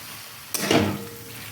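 Fried eggplant and puti fish are stirred together in a pan, a single sharp clatter followed by a brief surge of sizzling.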